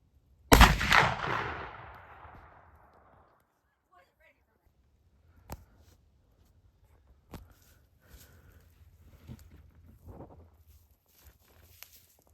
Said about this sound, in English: Getting ready for gun season, sighting in some guns today.